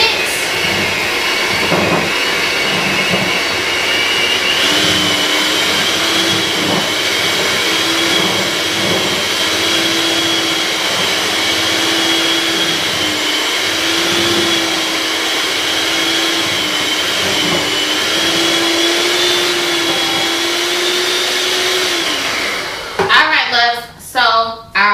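An electric hand mixer whirs steadily through cream cheese icing for red velvet cake, loud and close for over twenty seconds with a slight shifting pitch, then cuts out into a few brief clatters at the end.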